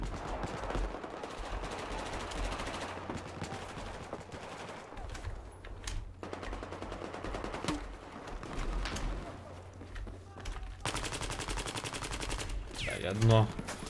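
Rapid automatic gunfire from Battlefield 4 multiplayer, a suppressed rifle firing repeated bursts amid distant shots and game effects, with someone talking over the action.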